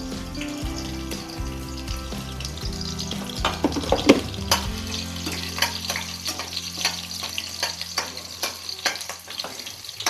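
Garlic frying in a pan while making a banana flower curry: a steady, close sizzle that builds as it is stirred, with scraping clinks, and no talking.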